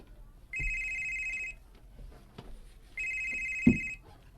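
A cellphone rings with an incoming call, two clear electronic ring bursts about two seconds apart, close and loud, with a brief thump or knock between them.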